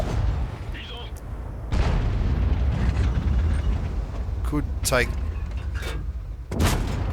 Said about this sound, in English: Puts a few more shots into the E100.